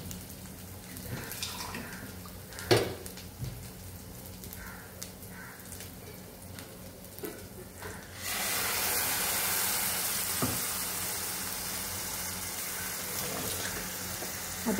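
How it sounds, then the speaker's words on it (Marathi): A small splash of water is poured into hot chole masala paste in a pan, setting off a sudden, steady hiss and sizzle about halfway through that lasts until the end, after a quieter stretch of faint kitchen noise. "एकदम थोडंसं पाणी घालून घेऊया।"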